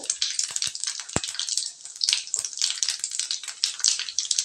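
Mustard seeds, cumin and urad dal crackle and sizzle in hot oil for a yam curry, a dense close hiss with scattered sharp pops throughout.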